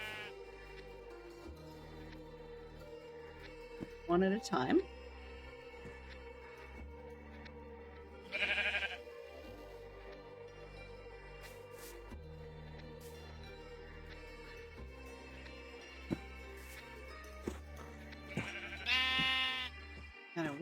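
Sheep in the Minecraft video game bleat in a few separate short calls spread across the scene, heard over a steady low background hum, with a voice speaking briefly.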